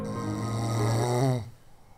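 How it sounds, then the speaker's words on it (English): One long, rattling snore with a buzzing nasal tone, loud and close, fading out near the end. "Your snoring"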